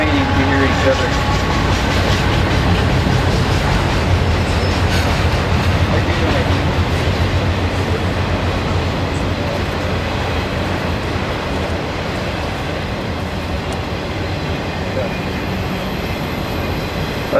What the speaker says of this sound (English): we'll wait for this train, I think. Hopefully it's not too long.